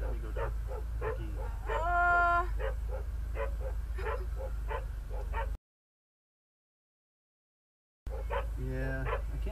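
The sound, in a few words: dogs barking and whimpering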